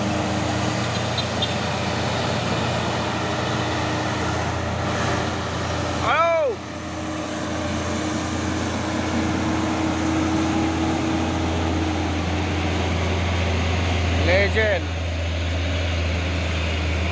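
Nissan trailer truck engine labouring up a steep hill, a steady low diesel drone throughout, with the whine of a passing vehicle and voices talking over it.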